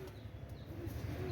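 Saharanpuri pigeons coo softly in a loft, a low, repeated burbling that runs faint and steady across the short moment with no talking.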